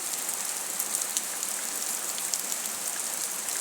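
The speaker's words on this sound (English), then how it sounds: "And the rain seem to be coming from that direction also." Steady rain falls in a dense, even hiss near Victoria Falls and the Zambezi Valley, with scattered drops patting close by and no voices.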